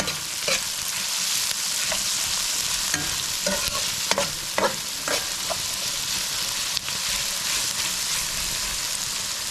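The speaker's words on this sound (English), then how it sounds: "We're gonna saute that." Ingredients for a chicken curry sauté in a hot pan. A constant close sizzle runs throughout, broken by a few scraping stirs near the middle. No one speaks.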